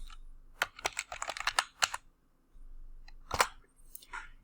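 Fingers tap out short bursts of keystrokes on a computer keyboard, close-up clicks clustered in quick runs separated by brief pauses in an otherwise quiet room.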